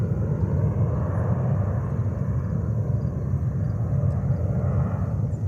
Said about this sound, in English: Takeoff is underway.